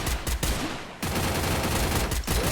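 Rapid gunfire in the Free Fire video game: dense, loud bursts of shots crackle almost continuously, with a brief lull before the shooting resumes in a steady stream.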